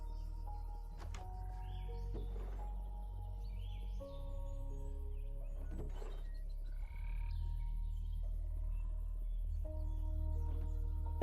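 Minecraft frogs croaking in a survival multiplayer world, short game-style croaks scattered over a steady low ambient drone, with occasional bird-like chirps and no talking.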